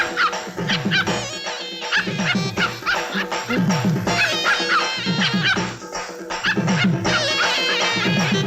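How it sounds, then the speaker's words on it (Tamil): A dog yips and whimpers in a Tamil comedy scene, short repeated cries over a dense, steady musical background. "இன்னையில இருந்து நாயை அவுத்து விடு"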